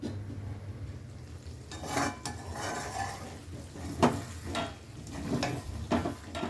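A lid settles onto a pot of steamed taro stolons with poppy seed paste, water and sugar, giving a few close metallic clinks over a steady low sizzle and kitchen clatter.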